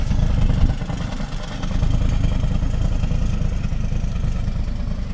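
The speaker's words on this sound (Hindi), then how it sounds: "तो ये हमारा देखिए इंजन भी ऐसे इस तरीके से वाइब्रेशन बहुत ज्यादा कर रहा है" A Toyota RAV4 engine idling with a misfire and heavy vibration, a steady low rumbling drone with uneven rough pulsing, close and continuous, no talk.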